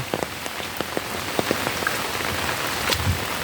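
Steady rain patters on a surface, with scattered louder drops ticking close by and no voices.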